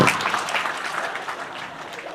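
An audience at a spiritual discourse on addiction claps steadily, a dense close burst of applause that fades slightly toward the end, with no talk over it.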